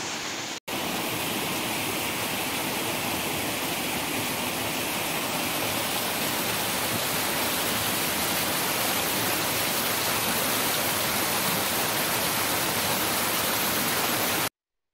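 A river flows into a deep pool in old-growth oak forest near Aghadowey, making a continuous, even rush of water that holds steady and fairly loud throughout, with no voices.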